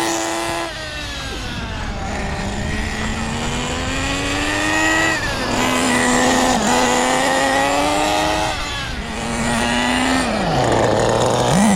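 HPI Nitro Bullet RC car with a G3.0 2.2 HP nitro engine running rich, a buzzing high-pitched engine note rising and falling in repeated revs and passes, loud and close with no talk.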